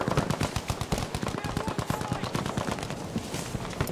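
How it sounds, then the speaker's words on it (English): Rapid automatic gunfire rattles without pause in the video game Battlefield V, with dense, loud, evenly spaced shots filling the whole stretch. "Oh shit, I'm getting shot at everywhere."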